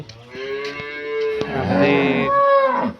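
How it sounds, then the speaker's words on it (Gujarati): A household cow on a family farm lets out a long, loud, deep moo close by, the call rising and wavering for about three seconds with no talking over it. "આ અમારા ઘરની ગાય છે."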